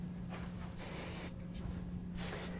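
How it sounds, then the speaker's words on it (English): Hairspray hissing from an aerosol can into a textured ponytail, two or three long close bursts of spray with short pauses between, over a low steady hum. "spray a little bit of hairspray into the ponytail just to give it some texture"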